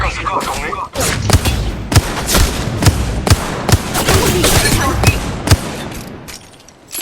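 Rapid gunfire in an Apex Legends Mobile firefight: loud, dense bursts of sharp shots and scattered heavier cracks packed tightly together across the whole stretch, close and intense.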